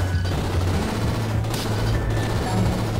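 Rapid gunfire and explosive bursts from the video game RunGunJumpGun crackle in a dense, continuous barrage over a droning low game soundtrack, loud and sustained throughout.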